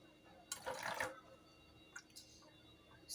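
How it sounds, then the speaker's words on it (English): Cold water is poured into hot water in a home kitchen while making bread: a brief splashing pour, then a few faint drips and trickles. The sound is fairly quiet and close by, with no talking. "I'm going to be adding little cold water."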